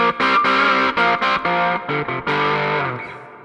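Distorted electric guitar, played through a distortion pedal or small amp with a mid-range push around the upper mids, strikes a quick run of sustained chords with short gaps before one last chord rings out and fades.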